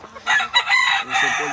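A rooster lets out one loud, close crow at a Puerto Rico yard where fighting cocks and hens are kept.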